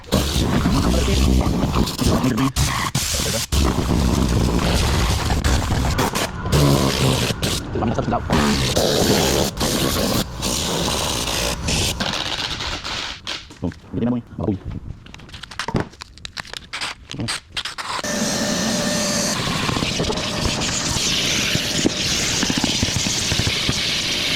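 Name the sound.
compressed air blowing debris out of car interior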